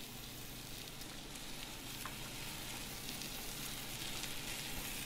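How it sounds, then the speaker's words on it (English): Yellow squash and garlic sautéing in a pan in an Italian restaurant kitchen, giving a steady, continuous sizzle with a dense, even frying hiss throughout. "Once we get all that all nice and sauteed"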